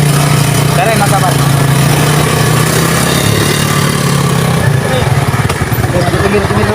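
A motorcycle engine runs steadily nearby with a low, even drone, loud and continuous, while people talk over it.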